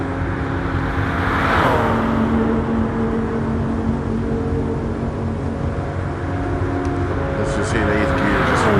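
Toyota Supra in a VR racing game, its engine droning steadily throughout with a pitch sweep near the start as it shifts up through gears, under a continuous road roar.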